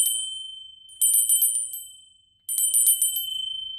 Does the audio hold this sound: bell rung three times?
yes